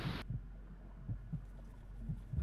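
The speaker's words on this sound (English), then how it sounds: "Nah, I hear my heartbeat going." Heartbeat sound effect in Modern Warfare 2, low muffled thumps in paired beats repeating at a steady pace after a brief burst of noise at the start.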